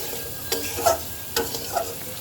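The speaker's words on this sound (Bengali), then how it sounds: "এইবার সব কিছু একসাথে সুন্দর করে ভাজা ভাজা করব" Crab claws fry in a pan for an ilish curry, with a soft sizzle broken by several sharp scraping strokes of a spatula stirring them, close and clear.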